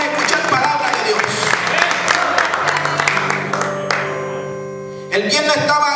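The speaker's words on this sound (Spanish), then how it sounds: "Dele ese aplauso al Señor." Church congregation applauding and cheering in praise during a Spanish-language worship service, a dense wash of clapping mixed with voices and sustained music tones, dipping briefly before swelling again.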